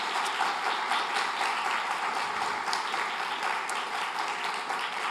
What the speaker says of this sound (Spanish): reciban el aplauso de la gente maravillosa que está aquí de manera presencial